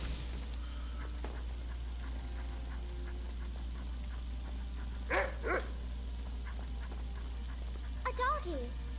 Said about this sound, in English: A doggy.